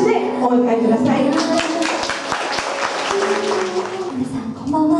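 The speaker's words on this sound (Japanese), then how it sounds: "盛大な拍手でお迎えください。" Audience applause welcomes a singer-songwriter onto the stage at a summer solstice candle night concert held in a temple, a steady loud patter of clapping layered over warm musical tones and some background voices.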